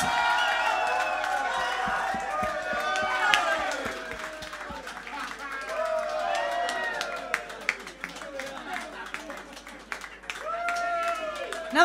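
Crowd at a CD launch concert for a band's debut album in a Czech club, applauding, cheering and whooping throughout, with shouts and voices rising over the noise.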